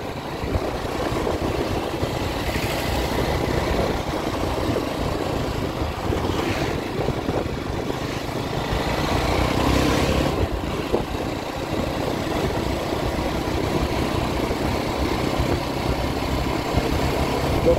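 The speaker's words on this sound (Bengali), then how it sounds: "আজকে সেরকম বাইক চালিয়ে নিয়ে যাচ্ছি" Motorcycle riding along Kulpi Road, NH 117 toward Bakkhali, a constant engine drone mixed with road and wind noise, steady and unbroken.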